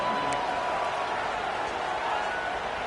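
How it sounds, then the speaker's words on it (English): A large stadium crowd in the video game College Football 26 roars steadily on third down at Alabama's Saban Field, a broad continuous wall of cheering noise with no pauses. "The Tide crowd rolling noise down onto Saban Field on 3rd down"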